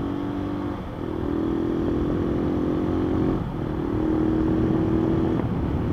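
A motorcycle engine being broken in on the road, running steadily at moderate speed with a continuous loud drone that swells slightly in two long surges, no voices.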